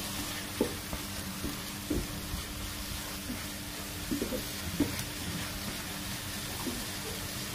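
Red amaranth greens frying in a pan with chopped coriander, a soft steady sizzle with occasional faint stirring clicks, quiet and close, with no talking.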